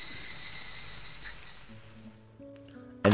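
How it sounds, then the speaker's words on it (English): Loud, dense cicada buzzing from an anime scene, a steady high drone that cuts off abruptly after about two seconds, followed by quiet tones. "the cicadas were very loud"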